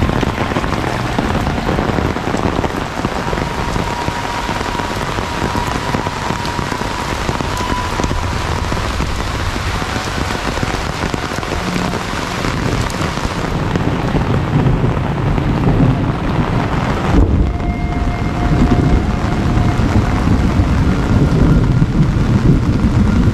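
Heavy rain pours down steadily on a leafy countryside village, a dense, loud, unbroken hiss and patter close around the listener, with no voices.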